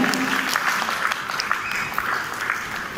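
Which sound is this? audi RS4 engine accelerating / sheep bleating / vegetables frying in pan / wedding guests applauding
wedding guests applauding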